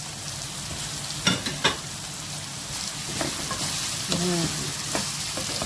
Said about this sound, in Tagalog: At pwede na po natin ilagay ang ating onion at tomato. At igigisa natin siya guys.